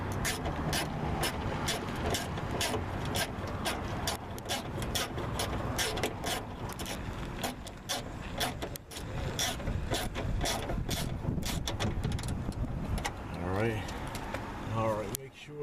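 Ratchet wrench clicking in steady rapid bursts while tightening screws on a Toyota Sienna wiper motor, close and fairly busy throughout, with a person talking over the work.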